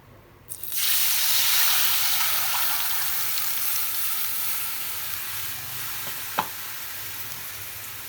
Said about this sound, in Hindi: वही तेल में ये जे बेसन के घोर लेलिए हैं, एकरा मिला के बढ़िया से एहिमे सबटा खसा देबै